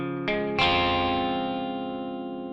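Electric guitar through effects playing the second part of a song's bridge, two quick picked chord strikes that then ring out and slowly fade, with a shimmering chorus tone and no talking.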